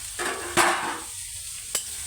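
Vegetables with jicama stirred in a frying pan, sizzling steadily close up, with a couple of louder scraping stirs cutting through the hiss.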